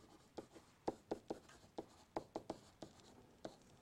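Marker or chalk strokes tap and scratch as capital letters are written on a board, a quick irregular series of short close strokes, quiet and without talk.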